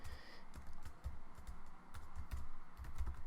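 Quiet, rapid tapping on a computer keyboard while entering Unity code, an irregular run of close key clicks with no talking.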